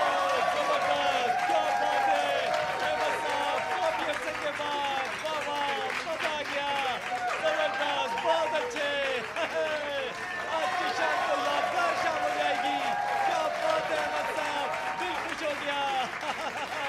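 An audience on stage claps and cheers to welcome a performer, a continuous wash of applause and crowd noise with a voice speaking over it.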